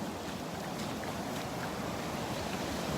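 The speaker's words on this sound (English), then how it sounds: "listening to the waves" Steady ocean surf washes at the water's edge along the beach at Delnor-Wiggins, a continuous broadband rush with light wind, close and even throughout with no voices.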